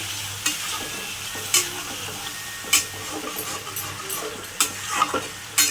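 Boiled potatoes for aloo dum fry in a pan with a soft, continuous sizzle. A spoon stirs them, making a repeated scraping clack roughly every second, close and fairly loud.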